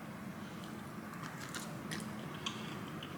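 Crisp crunching bites of thin, sour potato chips come through faintly, a few irregular crackles over a low steady background hum, with no talking.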